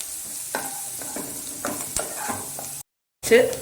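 Chana dal frying in oil and ghee for vegetable rava upma gives a steady close sizzle with a few louder stirring scrapes, a brief silent gap, then a sharper burst of stirring.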